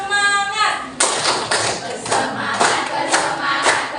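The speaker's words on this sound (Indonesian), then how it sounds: "Tepuk bersemangat." A group claps together in a steady, spirited rhythm at a workplace on-the-job training session. After a brief vocal lead-in, the sharp, even claps land roughly twice a second, with voices calling out over them.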